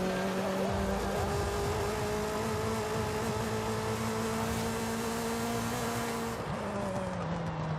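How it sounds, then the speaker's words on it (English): A Nissan Sentra Nismo engine in Forza Horizon 5, heard from outside the car: a steady droning engine note holding a sustained pitch, loud and continuous, with a slight drop near the end. "what the car sounds like outside of it."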